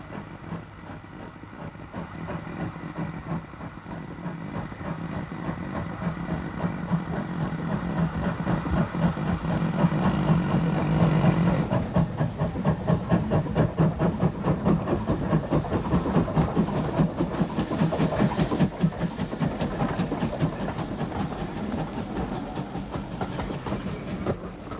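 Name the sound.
GWR 1400 steam tank engine with auto coach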